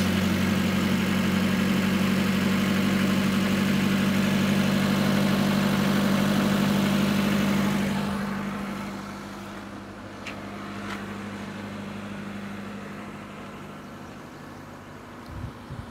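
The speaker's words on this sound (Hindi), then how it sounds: "दोस्तों गाड़ी स्टार्ट हो चुकी है।" A 2022 Maruti Suzuki Eeco BS6 five-seater idles close by with a steady, even engine hum that drops noticeably quieter partway through and then settles into a softer idle, with no talking.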